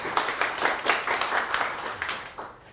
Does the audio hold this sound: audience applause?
yes